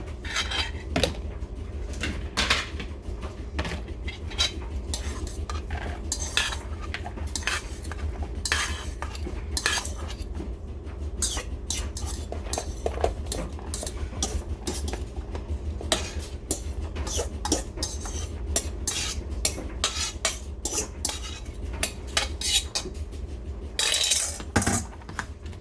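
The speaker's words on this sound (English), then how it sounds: "Now I'm going to separate this into 2 different bowls." A spoon clinks and scrapes against bowls as prepared food is portioned into two dishes, with continuous close metallic taps and ringing clatter over a low steady background hum.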